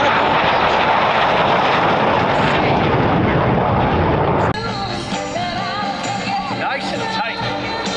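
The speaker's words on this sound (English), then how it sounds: "the airplanes you see right now in front of you" A loud aircraft engine roars overhead at the Dayton Air Show, then fades as a voice talks over a public address with crowd noise in the background.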